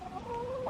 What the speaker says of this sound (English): Time to muck out the happy hens.